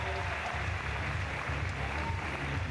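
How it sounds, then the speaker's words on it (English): Applause for a climber at a lead climbing World Cup final, a steady continuous clapping from the arena crowd, fairly loud and unbroken, with some low crowd noise underneath. "But a round of applause."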